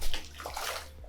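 Fish splash and churn at the surface of a lake by a boat dock after food is tossed in, a close, busy sloshing of water lasting about a second.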